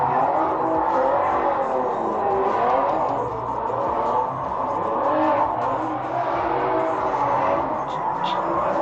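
Drift cars battling in a street class final, a gold and white FRS and a BMW E36, with a continuous engine drone and revving that holds at a steady loud level, heard from a distance with no talk.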